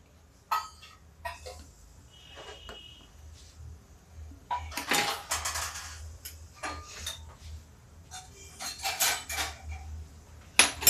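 Two bananas are sliced into rounds with a knife: sparse, irregular clicks and light clinks against a plate or board, with quiet pauses between cuts.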